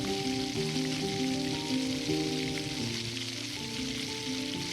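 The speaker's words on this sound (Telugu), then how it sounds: "మసాలాలు కొంచెం వేగిన తర్వాత జీడిపప్పు పలుకులు వేసుకుందాం. అవి కొద్దిగా వేయించుకున్న తర్వాత" Cashew pieces frying with whole spices in oil, a steady, close sizzle with soft crackling and occasional stirring, heard alone without talk.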